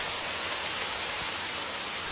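Steady rain falls outside an open door, raindrops pattering densely and evenly up close, a continuous hiss with no voices.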